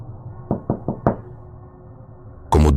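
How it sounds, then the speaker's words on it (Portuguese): Knocking on doors, walls and windows, heard as four loud, close knocks in an uneven sequence over a low dark drone, followed by a sudden heavy burst at the end. "Começo a ouvir batidas."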